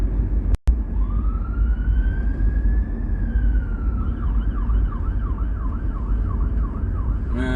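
A fire engine siren wails loud over steady traffic noise on a street, starting as a long rising tone, then switching to a fast yelping warble as the vehicle passes close by.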